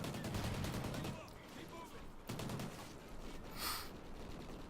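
Rapid bursts of automatic gunfire crackle in a Call of Duty: Ghosts battle during the Atlas Falls mission, loud and sustained, with shorter shots and a brief sharp blast near the end.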